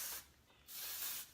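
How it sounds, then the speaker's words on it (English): Moroccan Oil dry texture spray misted onto a synthetic hair topper in two close bursts, a short hiss followed by a longer sustained one. "you can just spray that all in there"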